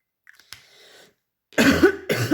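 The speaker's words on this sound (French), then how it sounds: "je suis sincèrement désolée pour ma toux" Two loud, harsh coughs close to the microphone, following a few faint rustles and a brief quieter throat sound.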